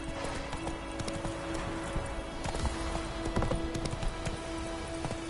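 Roach gallops in The Witcher 3, a dense, even drumming of hooves at close range under a steady game soundscape, with faint tonal hum layered in.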